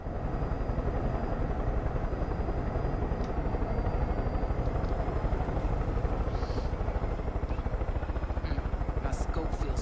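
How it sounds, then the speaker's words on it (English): A helicopter in a Far Cry game drones with a steady rapid rotor chop throughout, loud and continuous, with a voice speaking over it. "Get to the chopper."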